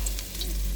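Garlic and ginger frying in a hot kawali, a short burst of even, bright sizzling with a faint scrape, loud and close.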